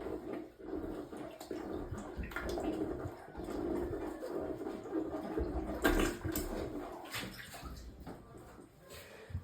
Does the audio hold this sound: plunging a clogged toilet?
yes